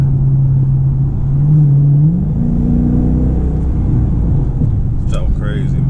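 A Dodge Charger RT driven in sport mode gives a loud, deep engine rumble close inside the cabin, its tone rising slightly as it revs, with a brief voice near the end.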